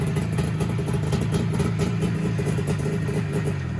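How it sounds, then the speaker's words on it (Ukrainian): An IZh Jupiter motorcycle engine fitted with a starter runs steadily nearby, a low, even throbbing hum with a slight rhythmic chug and no voices. "Мотор шепче."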